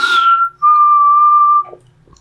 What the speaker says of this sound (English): there's a little bit of a whistle in there